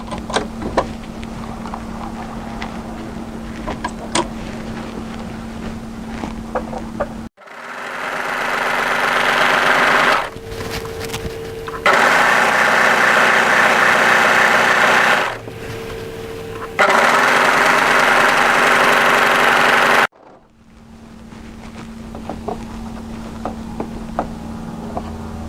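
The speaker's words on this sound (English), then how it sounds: "I'm going to overlock around the entire outside of my garment" An overlocker serges around the outside edge of a coatigan garment, running in loud steady bursts with brief pauses between stretches of stitching, framed by quieter room noise at the start and end.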